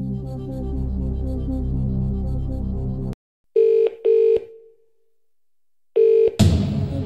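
Telephone tones in a televised-style quiz video game during a phone-a-friend lifeline: a music bed cuts off, then three loud, clean electronic ring tones sound with gaps of silence, followed by a noisy burst.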